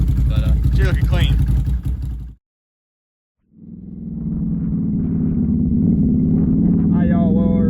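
A Can-Am off-road vehicle's engine idles as it warms up, a low steady rumble with a brief, unsteady buzz. It cuts out abruptly for about a second, then restarts and settles back into a steady idle while a person talks nearby.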